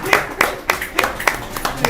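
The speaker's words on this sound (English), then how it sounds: "so now we clap for him." A small group at a discussion gathering claps, giving sparse, distinct claps spaced roughly a third of a second apart, close and fairly loud, with voices in the background.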